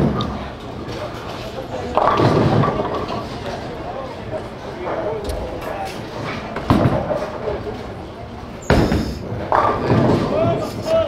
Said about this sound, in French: Malenfant, maintenant c'est un bel abat